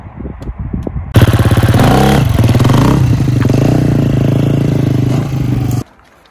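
An enduro motorcycle fires up abruptly and revs hard for about four and a half seconds during a wheelie drill, a loud, close engine roar that rises in pitch, holds, then cuts off sharply.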